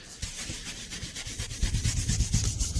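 A scrub pad rubs over a 24-year-old Alcantara car armrest, making steady close scratchy rubbing strokes that grow louder and firmer toward the end, with no talk.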